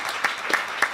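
Audience applause at a sustainability and business leaders event, a steady close wash of clapping hands with no voices over it.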